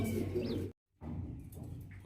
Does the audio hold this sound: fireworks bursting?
no